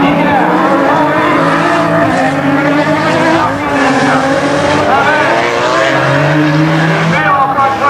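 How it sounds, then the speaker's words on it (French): Rallycross cars, including an Alpine and a Tigra, race and slide around a dirt-and-tarmac circuit at a French Coupe de France event, with continuous loud engine roar and tire scrabble under steady commentary. "Marguerite, Famens derrière qui glisse entre l'Alpine et la Tigra."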